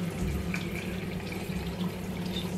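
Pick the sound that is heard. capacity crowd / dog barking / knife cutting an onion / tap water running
tap water running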